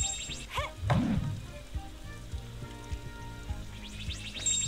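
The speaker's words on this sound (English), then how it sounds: "I guess we could do some tree chopping." Trees are chopped in the farming game Story of Seasons: Pioneers of Olive Town, several soft axe thwacks at an uneven pace over light game music and small chimes, no talking.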